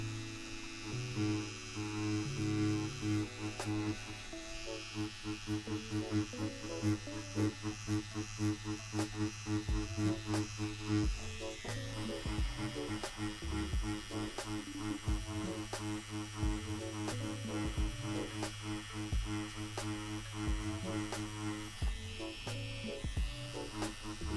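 Tattoo machine buzzing steadily while lightly shading realism work into skin, a continuous close electric hum with faint rhythmic pulsing, running alone without talk.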